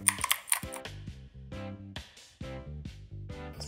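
Keys tapped on a computer keyboard while typing a search into a Windows PC, in quick bursts of crisp clicks with short pauses between, close and fairly quiet.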